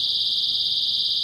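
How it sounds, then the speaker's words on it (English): A small keychain personal safety alarm, about the size of a USB drive, emits a loud, steady, piercing electronic tone that holds unbroken throughout, with no voices. "it releases an alarm that the makers say can draw help to you or scare off an attacker"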